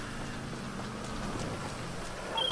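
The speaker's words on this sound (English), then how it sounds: "Oh, it's raining so much." Heavy rain falls steadily in the GTA V video game, a soft constant hiss of downpour, faint and even throughout, with no speech.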